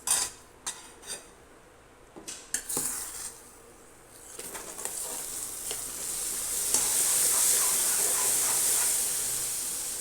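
Moong dal sizzles as it fries in ghee in a pan, with a few sharp clinks of a utensil at first, then a steady, close frying hiss that grows louder and fuller as it settles.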